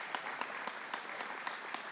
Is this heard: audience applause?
yes